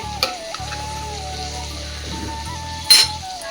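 Taro pieces frying in a pan, a steady close sizzle with scraping stirs and a sharp clink of a utensil against the pan near the end, no voices.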